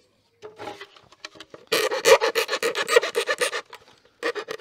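Metal file on a Swiss Army knife or Leatherman ARC rasping in quick back-and-forth strokes, a steady rhythmic scraping up close, with a short pause between bursts.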